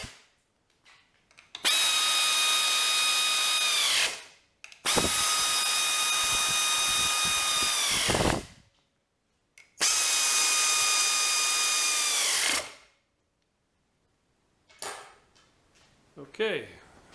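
A power drill tapping 3/8-16 threaded holes for welding table casters whines in three loud, sustained bursts with pitch rising and falling, separated by short pauses, followed by faint clatter and a brief final spin.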